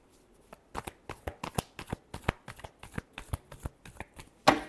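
A deck of tarot cards is shuffled by hand in a quick run of crisp, riffling card slaps, with a sharper snap at the end, close and clear with no talking.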